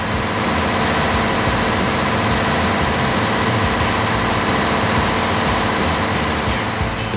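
A fishing boat's engine runs at sea in a loud, steady drone without pause, a dense mechanical roar around 83 decibels filling the space with no other sounds standing out.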